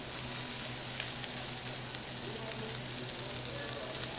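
Shrimp fry in a hot pan for pad thai, giving a loud, continuous sizzle with crackling spatter throughout. No talking.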